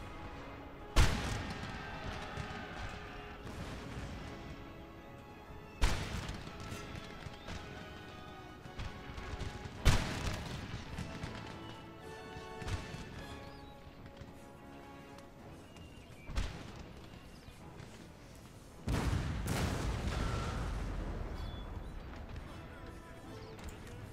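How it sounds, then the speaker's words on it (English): Booming cannon shots in the video game Napoleon: Total War ring out one by one at intervals of a few seconds amid battle noise, each sharp blast followed by a fading rumble. "Taking a few shots from cannon."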